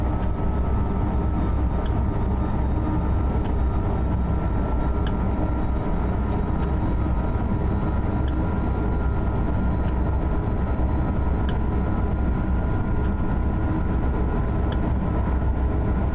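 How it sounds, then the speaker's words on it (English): An ICE high-speed train runs on a snowy Cologne high-speed line in Train Sim World 2, giving a steady, loud rumbling roar of wheels and motors throughout with no voices. "now the train, as I mentioned before, will be driving on its own"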